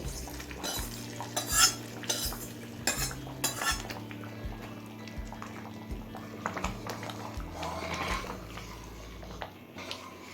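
A spoon scrapes and clinks against a pot while bhuna tempering is stirred into rice khichuri, giving irregular knocks over a soft bubbling simmer.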